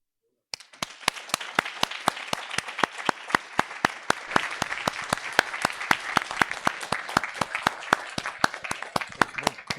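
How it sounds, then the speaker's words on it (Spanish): Audience applause at a community knowledge and education lecture, starting abruptly and continuing steadily for about nine seconds as dense, sharp claps with a few louder individual hand claps standing out near the front. "Un aplauso"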